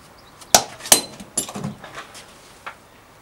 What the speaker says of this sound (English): And I totally just dropped it.